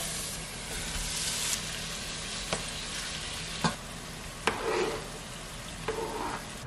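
Garlic sizzles in a frying pan with a steady close hiss, broken by a few sharp clicks and scrapes of stirring, and no voices over it.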